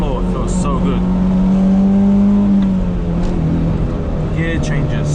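A Honda Civic Type R EK9 engine revving as it accelerates on a road drive in Japan, a loud close rising engine note with a shift partway through, followed by a fresh climb in pitch.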